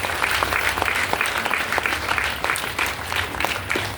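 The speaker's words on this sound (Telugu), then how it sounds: "గట్టిగా క్లాప్స్ ఇద్దాం." A large seminar audience at a stage meeting claps loudly and steadily with hands raised, a dense, continuous burst of applause that holds at full strength throughout.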